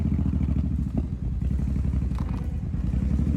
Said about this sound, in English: there was another motorcycle going in first